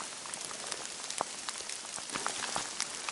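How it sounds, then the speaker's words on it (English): Heavy rain near old mine workings, a dense, steady hiss of drops beating on surfaces with scattered louder patters. It runs without a break and no one speaks. "It's raining quite heavily now"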